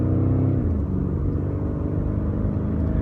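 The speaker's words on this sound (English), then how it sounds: "Got the active exhaust opened up." Deep, rumbling engine drone of a 2018 BMW M5 F90 with its active exhaust open, a steady throaty note shifting slightly in pitch as the car cruises, heard from inside without talk.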